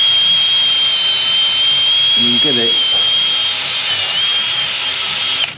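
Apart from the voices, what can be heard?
drill with wire brush cleaning sealant off engine block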